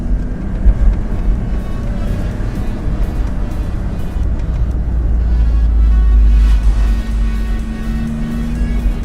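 A Porsche Boxster 986 roadster driving through town in first gear, a steady low engine drone heard from inside the car that swells slightly midway.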